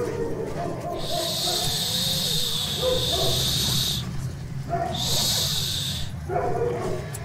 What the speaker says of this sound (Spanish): Pido perdón por mi perro.